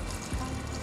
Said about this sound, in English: We are gonna add the broth in.